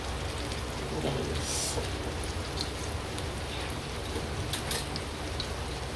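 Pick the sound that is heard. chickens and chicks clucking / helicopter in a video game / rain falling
rain falling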